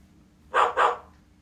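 A dog gives two quick barks in a row, moderately close and clear against a quiet background.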